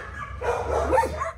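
Dogs at a crowded animal shelter bark and yip, a close, excited cluster of calls rising and falling over a low background rumble.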